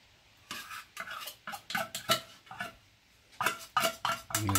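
Plastic containers of dog chews are handled and shuffled, giving a series of close clattering knocks and rattles with brief pauses between handling bursts.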